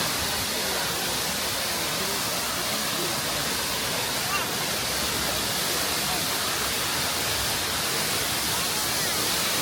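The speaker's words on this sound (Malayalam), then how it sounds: "ഞാനിപ്പോൾ നിൽക്കുന്നത് വളഞ്ഞങ്ങാനം വെള്ളച്ചാട്ടത്തിൻ്റെ സൈഡിലാണ്." Valanjanganam waterfall roars steadily from nearby, a constant broad rush of falling water filling the whole stretch without breaks.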